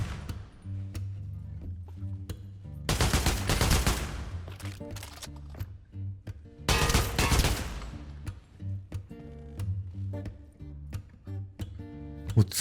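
Counter-Strike 2 played in virtual reality produces two sharp, loud bursts of rapid gunfire a few seconds apart, with scattered single shots and clicks in between, over a steady tonal game backdrop.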